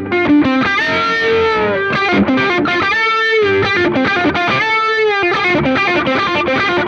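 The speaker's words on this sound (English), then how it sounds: "I'm kicking on the flange" Distorted electric guitar played through a flanger, loud sustained chords and bends with a sweeping, swirling whoosh rising and falling through the tone, no voices.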